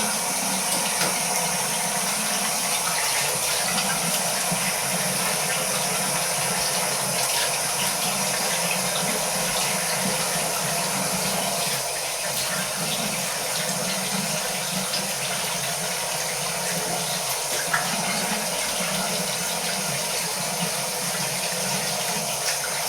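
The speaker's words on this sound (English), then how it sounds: "I'm going to rinse off." Steady running tap water fills a sink without a break, a close, continuous hiss and splash as someone rinses off after shaving with a Parker SR1 shavette.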